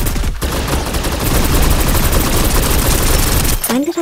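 Dense, loud, rapid automatic gunfire from the Snowbreak: Containment Zone shooter game blasts almost continuously, with a brief dip near the start and a sharp change in sound at the end.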